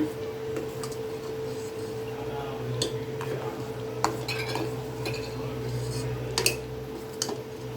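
A spoon stirring sweet raw mango pachadi in a pan over a low flame, with repeated soft scrapes and metallic clinks against the pan over a steady hum.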